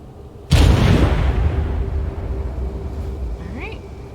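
A bomb dropped from a flying mount in The Falconeer explodes with a sudden heavy boom, then a long rumbling decay, with a faint rising whistle near the end.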